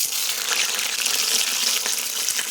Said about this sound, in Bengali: এখন কড়াই সর্ষে তেল দিয়ে বেগুনগুলো ভেজে নিচ্ছি।